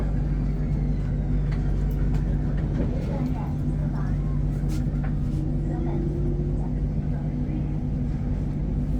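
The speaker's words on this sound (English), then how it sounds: "In fact, he put the brakes on to get into the station" Bangkok BTS Skytrain braking into Siam station, a steady low rumble and hum of the carriage with faint squealing as it slows, heard from inside the car.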